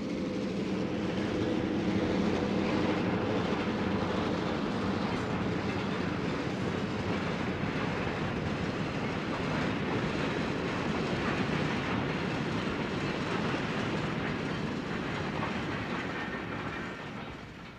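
Western Pacific EMD F-unit diesel locomotive train rolling past steadily, a loud continuous rumble with clickety-clack of rail car wheels throughout, no voices.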